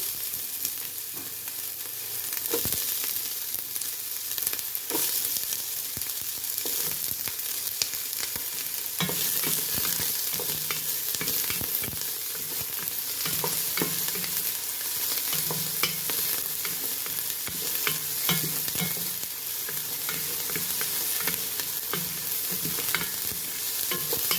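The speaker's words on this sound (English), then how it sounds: "Next, we are going to put our onion." Onion and garlic fry in a pot for a vegetable and chicken soup, giving a steady close hiss and crackle with frequent clicks and scrapes of stirring, no voices over it.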